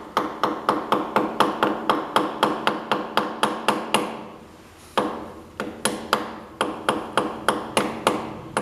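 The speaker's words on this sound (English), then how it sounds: "Let me grab my little hammer." A small hammer taps repeatedly at close range to level a part while a Kohler K301 engine starter is being fixed, with sharp, evenly spaced strikes in two runs separated by a short pause.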